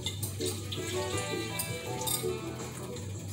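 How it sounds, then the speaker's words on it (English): Water pours steadily into a gumbo pot, a quiet continuous splashing trickle with faint clinks, heard alone without talk. "I'm gonna put just a little bit of water in"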